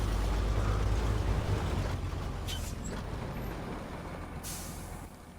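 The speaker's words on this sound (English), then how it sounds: "Just testing the brakes." A truck's air brakes in the SnowRunner video game hiss in two sharp bursts over a heavy idling engine rumble that slowly fades, with no voices.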